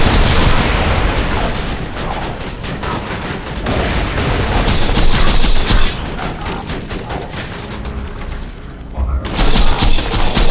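Continuous salvos of loud gunfire in Borderlands 2, a video game, with rapid rattling bursts, booming blasts layered throughout, and a short lull before a fresh volley.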